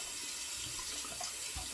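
Tap water runs steadily into a sink to wet a synthetic shaving brush, a close, continuous hissing splash with slight gurgling variation and no voices.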